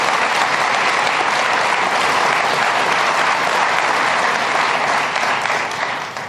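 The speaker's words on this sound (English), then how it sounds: "Let's give them a round of applause." An audience at a New York state government event breaks into loud, sustained applause, dense clapping filling the room for about six seconds before it begins to taper off at the end.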